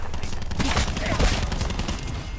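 Gunfire in Black Ops 4 aimed at a UAV, rapid continuous bursts close and loud, blended with other in-game noise.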